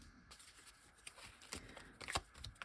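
Playing cards are shuffled and drawn in a quiet room, producing faint, close riffling and flicking with several sharper snaps.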